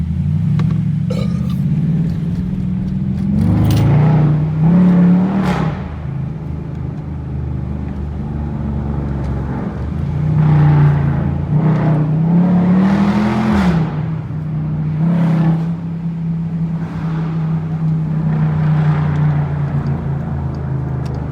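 Dodge Durango Scat Pack SUV driving along with its engine rumbling steadily up close and rising in several revving surges, no talking over it.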